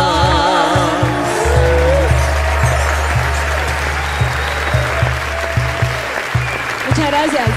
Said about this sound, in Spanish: Un aplauso, por favor. Un aplauso fuerte.